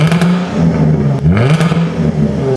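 Jaguar F-Type 400 Sport with its sport exhaust mode engaged, its engine rising and falling through a few quick revs, loud and close, with no voices for about two and a half seconds.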